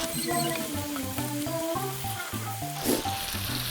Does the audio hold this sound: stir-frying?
yes